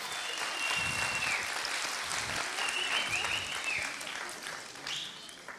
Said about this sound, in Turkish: Koromuzu kocaman bir alkışlayalım öncelikle.